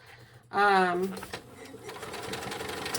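A sewing machine stitches fabric along a seam in a quick, whirring burst of motor and needle, then settles into a quieter, steady run as a person talks nearby.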